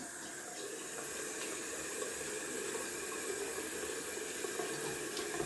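Cold water runs steadily from a bathroom tap into a sink during a wet shave, a continuous hissing splash at moderate volume with no voices.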